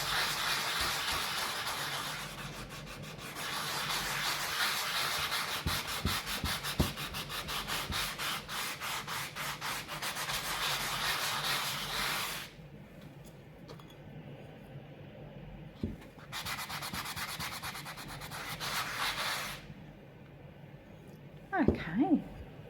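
Ultra-fine 800 grit sandpaper scrubbing a cast resin piece in long, steady bursts of abrasive rasping, with brief quiet pauses between passes and a final short stroke near the end.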